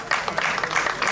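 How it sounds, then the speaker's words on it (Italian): Audience applause at a cycling award ceremony for the 2017 Gran Fondo Valle dell'Alesa in Pettineo, Sicily: dense, steady clapping from a crowd, fairly loud and continuous across the whole short burst, with no voices over it. "Un applauso."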